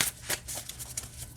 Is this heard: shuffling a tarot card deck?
yes